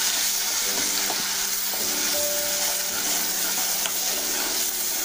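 Onion paste blended in a mixer jar is sautéed in a pan for a paneer gravy, giving a steady loud hiss of frying, with occasional faint scrapes of a stirring spoon up close.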